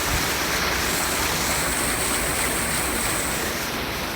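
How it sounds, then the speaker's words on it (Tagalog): Rushing water pours from a lake outlet in a constant, broadband roar, close and steady throughout with no voices. "Dito lumalabas yung tubig."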